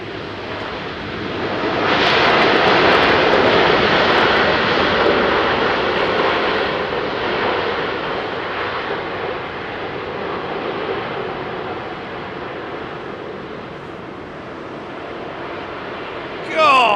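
Airbus A380 jet engines at Heathrow make a broad, loud roar that swells and then slowly fades. People talk over the noise.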